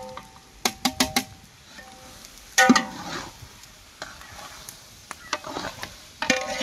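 Biryani with tomato and drumstick frying in a large pot while friends cook it, with repeated scraping and clanking stirring strokes over a low sizzle and occasional sharper metallic knocks, no clear speech.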